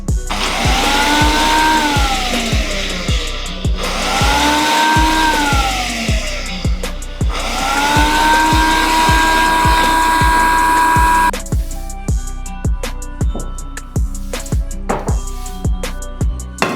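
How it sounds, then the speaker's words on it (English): A blender whirs in three long rising-and-falling runs, loud and close, pureeing a dressing of walnuts, white wine vinegar, olive oil, salt and black pepper, over a steady ticking beat that continues after the motor stops. "Blend it."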